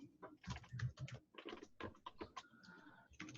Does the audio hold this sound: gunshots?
no